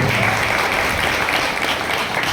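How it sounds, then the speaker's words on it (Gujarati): An audience bursts into dense, loud applause that carries on without a break, welcoming someone speaker onto a women's forum stage. "એ છે અમારા પ્રભાબેન જોરદાર તાળીઓથી સ્વાગત કરે છે"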